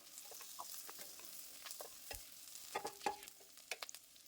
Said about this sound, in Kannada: ಇವನ್ನ ಎಣ್ಣೆಯಲ್ಲಿ ಫ್ರೈ ಮಾಡ್ಕೊಳ್ಬೇಕು